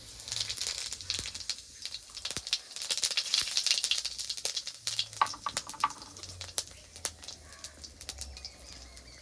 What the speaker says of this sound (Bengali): এবার ফোড়নে দিয়ে দেবো দুটো শুকনো লঙ্কা কটা গোটা জিরে